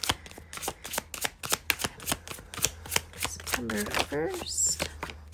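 A Numinous Astro tarot deck is shuffled in quick, crisp bursts of card riffles and taps at close range, with someone briefly speaking partway through.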